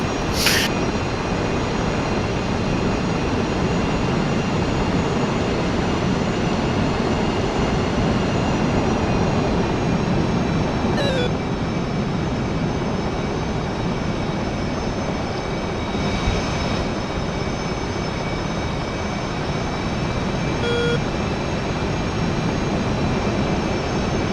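A jet aircraft on a low-level strike run, heard as a loud, steady broadband engine roar that holds without a break for the whole stretch, with no voices.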